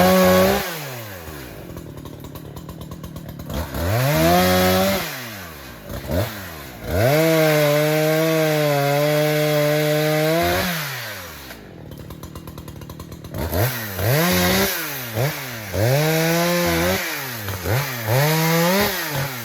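Chainsaw cutting trees at a camp, loud and close, its engine revving up in repeated bursts through each cut and dropping to idle between them, with no talk.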